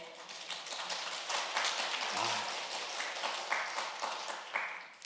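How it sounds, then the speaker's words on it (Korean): A church congregation claps during a Sunday service, giving steady, moderately loud applause with many overlapping hands that continues throughout. "이렇게 박수도 쳐주시고"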